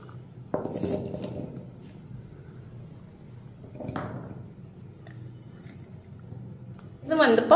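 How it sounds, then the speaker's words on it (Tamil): Onion pieces dropped into a bottle, sharp clinking impacts followed by short rattles, two separate drops a few seconds apart and a louder clatter at the end. "இப்போ இந்த வெங்காயத்தையும் இதில் போட்டுக்கிடுவோம்"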